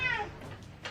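A brief cat meow rising at the start and fading, faint, with soft background talk around it.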